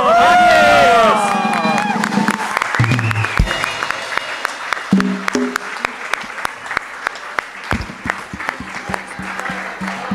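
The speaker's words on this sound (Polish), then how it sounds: "Wielkie brawa!" Audience applause with scattered cheers at a youth gathering concert, loud and sustained, with a brief burst of singing or shouting at the start, then steady clapping under crowd murmur.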